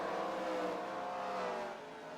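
Race car on a long straightaway at Pocono in a racing video game, a sustained engine whine at moderate level fading slightly at the end, no voices.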